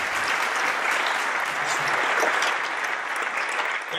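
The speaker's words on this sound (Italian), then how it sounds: "La sua condivisione ha scaturito un caloroso applauso dei partecipanti che è durato molto tempo." Participants at a congregational gathering of the Mediterranean region give warm, sustained applause, a loud, dense wash of many hands clapping steadily throughout.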